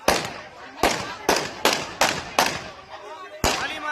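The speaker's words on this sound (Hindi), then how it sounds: "ये फायरिंग कर रहे हैं पीटीआई वाले, ये फायरिंग चल रही है।" Repeated gunshots fired by guards at a by-election polling station, about seven sharp loud cracks in irregular succession, each with a short decaying echo, with voices faintly present.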